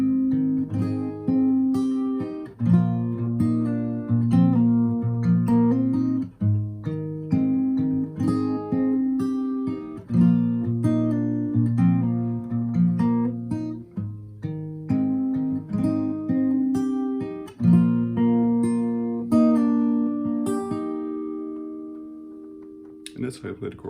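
Fingerstyle acoustic guitar plays the chorus of a song, with steady plucked notes over repeating low chord patterns. The playing is close, clear and continuous, with no voices.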